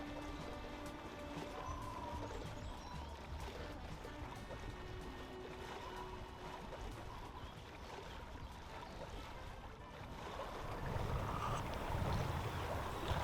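A sailboat glides along on a sunny day on Alaskan waters, giving a continuous wash of water and wind noise with steady rushing that swells slightly louder toward the end.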